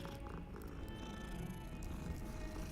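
A kitten purring in the video game Hogwarts Legacy, a soft, continuous rumbling purr heard close but faint beneath game ambience and a thin tonal music hum, with no speech.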